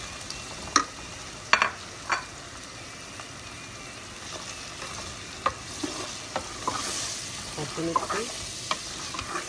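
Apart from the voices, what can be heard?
prawns being stirred and fried with spices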